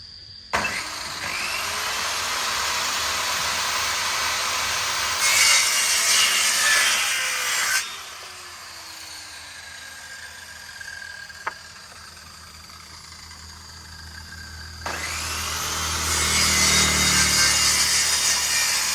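Power saw cutting a Shera fiber cement board into a triangle, with long steady cutting passes broken by pauses and a sharp click, loud and close.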